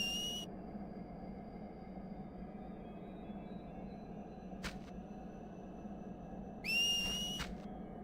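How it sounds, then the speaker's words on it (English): Short high whistle tones in the video game Final Fantasy X-2, heard as a brief whistle at the start and another near the end over a quiet, steady ambient game backdrop, with a faint click in between. "They walk through the Glen and we have to whistle."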